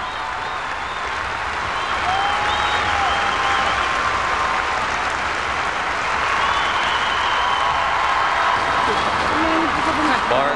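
A frenzied crowd at the 1990 ice dance world championships applauds loudly and continuously, a dense wall of clapping and cheering that swells slightly after the first two seconds and holds steady throughout.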